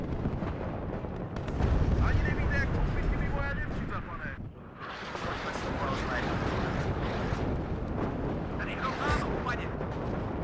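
Artillery fire in the video game WARNO, Czech guns booming and rumbling in a continuous heavy barrage with distant blasts, someone talking over the noise.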